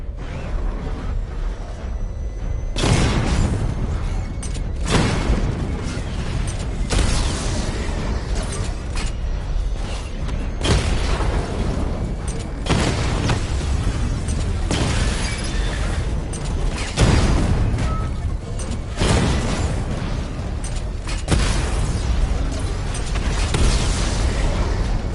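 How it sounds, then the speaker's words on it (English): Rapid volleys of missile barrage blasts in Batman: Arkham Knight, a steady run of heavy, booming explosions and crackling bursts repeating every second or two over a continuous rumbling game soundscape. "Charge up missile barrage to level 2 and destroy 4 active targets to complete diagnostic test."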